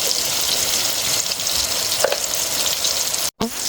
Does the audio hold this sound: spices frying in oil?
yes